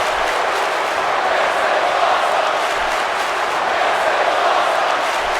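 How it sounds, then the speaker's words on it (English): A capacity arena crowd at a wrestling event in the WWE 2K video game murmurs and cheers in a continuous, steady roar, evenly loud throughout with no clear pauses or individual voices. "Listen to this capacity crowd."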